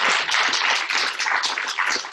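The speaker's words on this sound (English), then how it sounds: "Can we give them a round of applause?" An audience at a company offsite in Istanbul claps together in a dense, steady round of applause that stays loud and close for about two seconds and then thins slightly toward the end.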